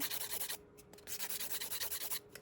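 An electric nail drill levels a gel nail extension on a tip, giving quiet rhythmic rubbing, sanding strokes in quick pulses with a couple of brief pauses, close up.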